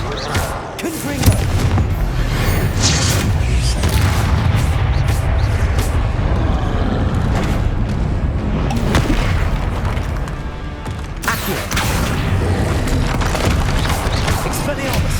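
Repeated booming blasts of the Confringo explosive spell in Hogwarts Legacy on PS5, loud dense impacts recurring through heavy combat noise.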